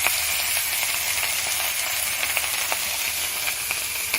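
Pumpkin greens seasoned with salt and turmeric are stirred in a hot pan, giving a steady close sizzle and hiss with light scraping ticks from the stirring, no voices.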